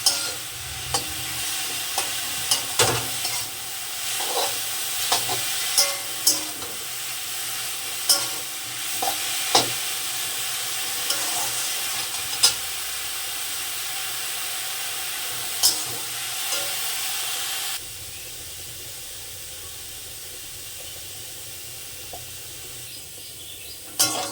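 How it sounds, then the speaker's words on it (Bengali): Pumpkin leaves fry in a pan with a steady sizzle, broken by repeated sharp scrapes and stirs of a spatula, close and alone, and the hiss drops lower toward the end. "শাকটাকে আমি সুন্দর করে ভেজে নেবো"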